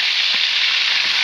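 Garlic, onion and tomato sizzle steadily in a hot pan, a dense, loud, even frying hiss with faint stirring underneath and no voices.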